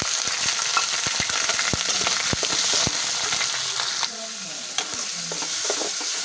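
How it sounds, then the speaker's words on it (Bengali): Sliced onions fry in hot oil with bay leaf and dried red chilli. A loud, steady sizzle runs throughout, broken by frequent scraping strokes of a spatula stirring the pan. "দিয়ে দিচ্ছি পেঁয়াজ"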